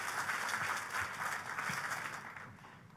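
A church congregation applauds together during a worship service, a steady wash of clapping that holds for a few seconds and then begins to thin out.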